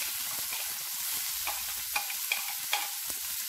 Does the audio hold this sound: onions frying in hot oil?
yes